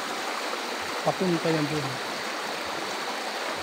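Warm hot-spring river at San Benon resort in Irosin, Sorsogon, flowing in a steady close rush of water, with someone briefly speaking over it partway through.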